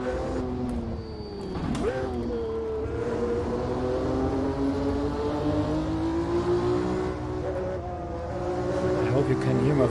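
Ford and Ferrari race car engines in the Automobilista VR racing game at Sebring, a loud continuous drone with pitch rising and dropping through gear changes, while a voice talks over it.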